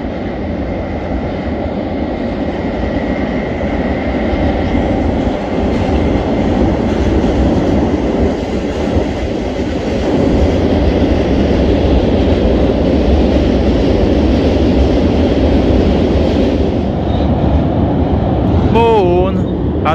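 A train rolls across the Anghel Saligny CFR rail bridge over the Danube at Cernavoda, a steady heavy rumble with faint wheel clatter sustained throughout, under occasional talk, with a brief high screech near the end.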